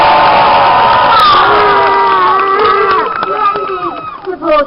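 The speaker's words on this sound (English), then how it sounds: "Splendid supporters cheering in this final section of the tilt yard." A crowd at a Renaissance festival cheers for a jousting champion in the tilt yard, loud and close, with overlapping shouts and voices rising and falling over several seconds.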